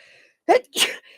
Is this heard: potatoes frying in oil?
no